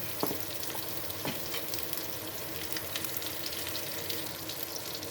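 Meatballs (Frikadellen) fry in a pan with a steady, dense sizzle that holds at an even loudness throughout, a couple of soft taps standing out, and no voices.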